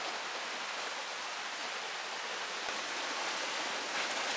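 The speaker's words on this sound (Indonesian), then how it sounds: "Depannya langsung sungai." A river flows steadily right in front of a glamping tent, a faint, even rushing wash of water with no voices over it.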